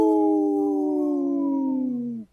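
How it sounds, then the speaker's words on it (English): A single long wolf howl, loud and close, holds a steady tone for about two seconds, sliding gently downward before cutting off abruptly, with no other sounds around it. "Howl!"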